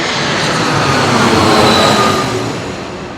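An airplane passes overhead above a San Diego garden, a loud, steady broadband roar that swells and then slowly fades, with no voices.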